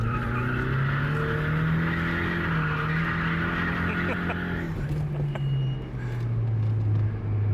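Car drifting on a race track on old, worn tires, with a sustained loud tire squeal over a droning engine that shifts pitch as the slide changes, heard from inside the car.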